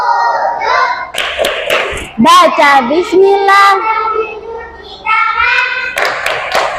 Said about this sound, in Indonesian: Ayo bersama-sama tepuk wudhu.